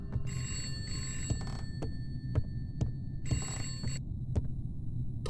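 A telephone rings in the dark horror game Contempt, set in a haunted house in a forest: two bursts of bright bell tones separated by a pause, over a steady low throbbing hum.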